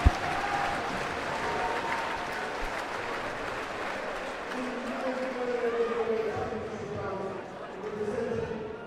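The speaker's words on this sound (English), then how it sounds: "And they deserve this round of applause." A boxing event crowd applauds steadily and fairly loudly, a dense wash of clapping and cheering held for several seconds while a commentator talks over it.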